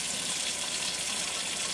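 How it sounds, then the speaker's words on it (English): Cold well water pours into containers as a steady, close gushing stream that runs unbroken for a couple of seconds, with no talking. "Now we got to do 2 cups of cold water in each one."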